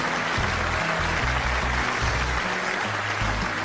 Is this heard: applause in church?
yes